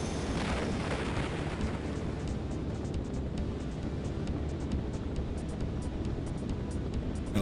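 A missile explosion in Pilotwings 64 gives a sustained, rumbling blast-like roar lasting several seconds. It is steady and loud, with crackling debris texture and no talk.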